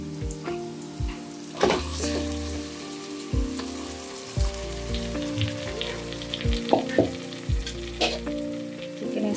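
Masala-marinated chicken tipped into a pan of fried onions, a soft crackling sizzle broken by several clanks and scrapes of stirring, with a low steady hum beneath and no talking.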